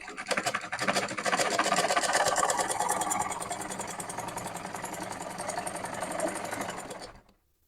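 A domestic sewing machine runs continuously for about seven seconds after a loose-stitch fix, its fast, even needle chatter loud and close before stopping abruptly.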